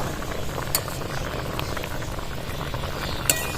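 Flour phokka dumplings simmer in a pot with soy sauce, a steady bubbling boil with soft popping and an occasional faint clink, close and even throughout with no talk.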